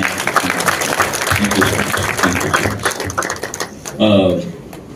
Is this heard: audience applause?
yes